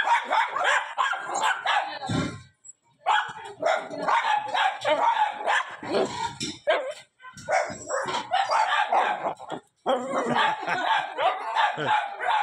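Dogs at a house in the Philippines bark repeatedly in loud, close bursts with short pauses, mixed with street noise.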